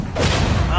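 A Bombarda spell explodes in the Hogwarts Legacy video game, a sudden broadband blast that starts abruptly and holds loud through the brief moment, over a dense, rumbling game mix.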